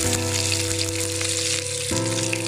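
Chopped onions and coconut sauté in a pan for a tomato chutney, a dense, loud crackling sizzle close by over a steady electrical hum, with no talk.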